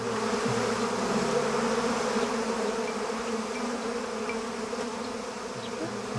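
A dense, steady buzz of many bees hums continuously, close and fairly loud, with individual wingbeats droning in and out.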